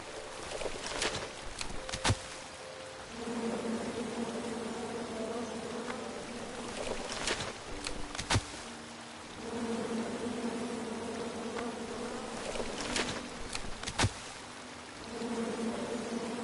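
Angry bees swarm around a tree in King's Quest, a continuous droning buzz that swells and fades in waves, broken by a few sharp knocks and clicks.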